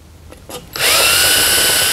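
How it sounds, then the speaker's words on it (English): A couple of soft knocks, then a power drill whirs up loudly and runs steadily at high speed, close by, driving a fastener while installing a felt scraper on a 1952 Chevy pickup. "Once you get it pretty much started drilling, and that's all there is to it."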